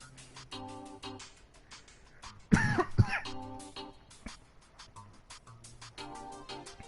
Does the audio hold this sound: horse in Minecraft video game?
no